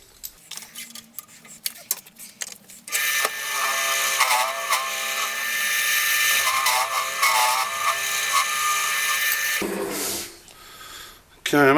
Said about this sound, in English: I think it's back to using that square carbide cutter, but just being very gentle with it